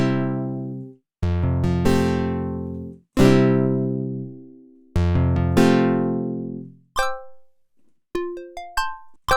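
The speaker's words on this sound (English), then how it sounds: "Jazz guitar." Jazz guitar preset on the TAL-Pha synthesizer, an Alpha Juno II emulation: several plucked, decaying chord stabs ring out alone, then a few short, thin, bell-like single notes.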